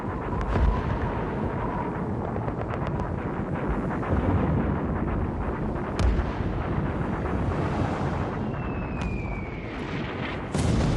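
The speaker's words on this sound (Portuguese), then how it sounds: "Uma das 16 bombas Taupoy lançadas atinge diretamente o Tirpitz." Heavy, continuous rumbling blasts of Tallboy bombs dropped by Lancaster bombers on the battleship Tirpitz roll on and on, with sharp cracks and thuds punching through a dense wall of explosive noise.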